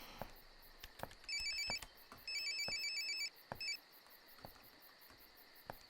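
Electronic telephone ringing in a quiet room: three bursts of warbling trilling rings, moderately loud, with a faint chirping and ticking background and no voices.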